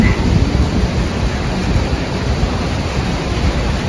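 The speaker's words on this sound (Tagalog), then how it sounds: "bumagsak na nga ang ulan" Dense, steady rushing noise of heavy rain pours down without pause, loud and enveloping, with no voices.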